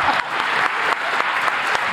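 An audience applauds steadily and loudly during a comedy news show, a dense continuous wash of clapping with a few faint voices underneath.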